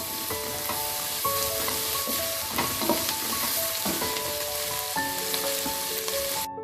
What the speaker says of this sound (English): After 2 minutes of sauteing on high flame, time to add yellow and red bell peppers